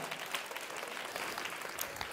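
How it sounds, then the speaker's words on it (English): A faint, brief round of audience applause at a TEDxYouth event in Buffalo, soft continuous clapping heard from a distance with no speech over it. "Give yourselves a round of applause, audience."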